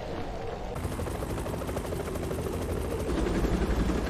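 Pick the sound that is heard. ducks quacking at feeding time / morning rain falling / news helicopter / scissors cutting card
news helicopter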